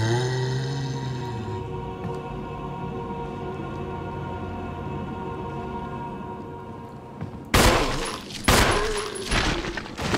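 Gunshots at a zombie in the Resident Evil (1996) HD remaster. A long low droning ambience runs first, then two or three loud, close blasts land near the end.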